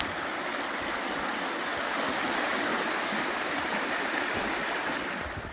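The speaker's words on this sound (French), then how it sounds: "on passe avec les petites rivières qui se jettent dans le lac" Small rivers rushing into the lake beneath little footbridges at Chambon-sur-Lac, a steady, dense wash of flowing water that stays even and continuous throughout, with no voices.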